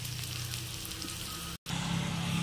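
Something fries in hot oil toward golden brown, a steady close hiss and crackle with a brief cut to silence partway before the sizzle resumes.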